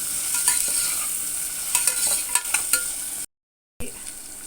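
Vegetables for green peas pulao sauté and sizzle in a pan, with steady frying hiss and several sharp scraping stir strokes from a spatula, briefly cut to silence before the sizzle resumes.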